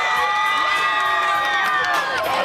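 A high school crowd at a 1997-98 burping contest cheers loudly for a contestant, with sustained shrill shouts and whoops from many young voices blending into a continuous roar.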